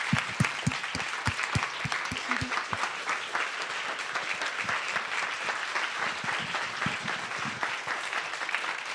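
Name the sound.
applause for speakers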